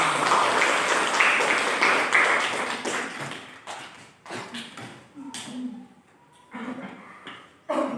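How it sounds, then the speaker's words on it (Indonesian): A classroom group of teachers and students applauding together, a dense burst of clapping for a few seconds that thins into scattered claps, with brief murmurs and stray taps in between. "Oke, tepuk tangan untuk kita semua."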